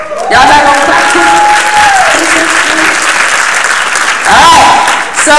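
Applause from an audience at a youth poetry slam in Jacksonville, a steady dense wash of clapping filling the room for several seconds, with voices and a few cheers riding over it.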